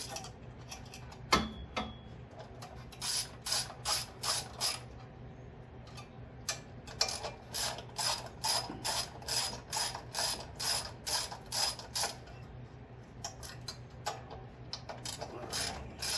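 Ratchet wrench clicking rapidly in repeated bursts while removing four bolts above the carburetor of a Porter Cable 8000 watt gasoline generator, close and crisp with short pauses between strokes.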